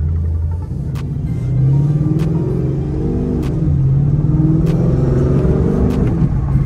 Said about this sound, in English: Sport mode in a 2011 Mustang GT.